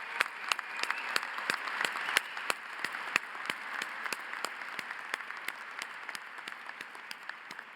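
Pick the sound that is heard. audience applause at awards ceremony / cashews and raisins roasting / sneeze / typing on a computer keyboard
audience applause at awards ceremony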